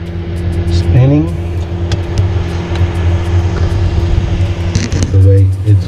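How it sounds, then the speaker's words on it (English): A Frigidaire refrigerator fan that is not cooling properly spins with a steady, loud, close droning hum and tonal whine, with a voice at times. "we can hear and see the fan"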